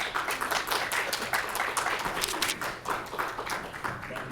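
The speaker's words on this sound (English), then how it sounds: "can I have a big warm round of applause for Gilles Stromberg?" A comic con keynote audience applauds, sustained dense clapping from a sizable crowd that holds steady throughout with no talking over it.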